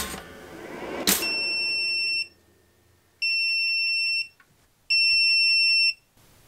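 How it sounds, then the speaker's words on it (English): Three loud, steady high-pitched electronic alarm tones from a power inverter overloaded at about 1400 watts, each lasting about a second, separated by short pauses, following a brief thump. "sounding the alarm saying we've, well, exceeded our speed limit here with the inverter"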